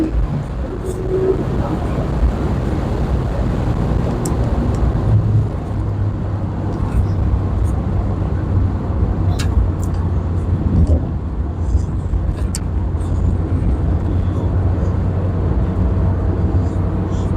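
A Mazda Miata drives on winding mountain roads, its engine holding a steady, loud low drone up close with slight shifts in pitch as it rotates through corners; no talk over it.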